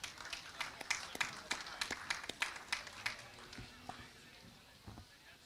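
An audience at the Watertown Winter Farm Show livestock ring gives a short round of applause, scattered claps from a modest crowd in a large hall, fairly faint and fading out as an announcer's voice carries over it.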